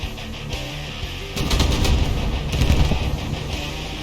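Naval guns firing in a warship video game, with dense, loud bursts of rapid gunfire and booming shots over a constant low rumble, and no talking.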